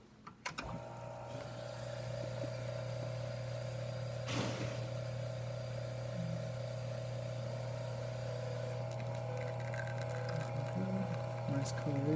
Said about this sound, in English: So let's pull a shot and see how it's looking.